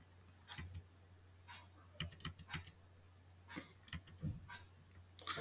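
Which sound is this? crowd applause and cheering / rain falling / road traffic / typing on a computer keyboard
typing on a computer keyboard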